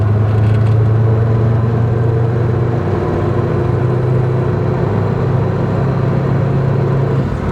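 The engine of a 1964 Comet car idles loudly and close by, its low drone uneven and rough as if from a vacuum leak, with no one speaking.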